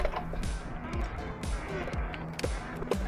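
Repeated creaks and clicks from a Suntour 38 Durolux mountain bike suspension fork, rising in a loose rhythm of about one every half second, close up and moderately loud over low background noise.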